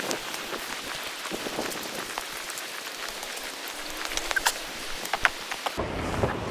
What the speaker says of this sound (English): Water back here is just heavy rain.